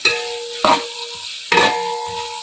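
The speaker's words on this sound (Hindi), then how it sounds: "अब प्याज को हमें गोल्डन ब्राउन करना है इस ऑयल में।" A kilo of sliced onions fries in oil in a pot for beef paya. Three sharp bursts of stirring and scraping hit at regular intervals over a constant sizzle, with no talk.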